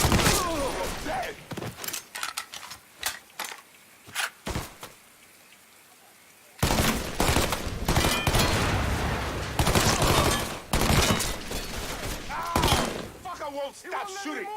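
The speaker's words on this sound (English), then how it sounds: "I won't stop shooting!" Gunfire in the Mafia 3 video game, with bursts of sharp shots and rapid volleys, then a short quiet gap and a loud, dense stretch of firing and impacts. A voice talks over it at times.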